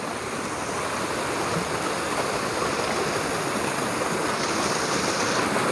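A mountain stream rushes steadily nearby, a loud, unbroken broadband wash of flowing water with no voices.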